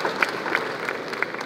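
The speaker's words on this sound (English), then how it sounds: "let's give a round of applause" Light applause from a conference audience honouring a scientist at an international conference on human-elephant issues, with a few brighter claps popping out over a soft, even patter.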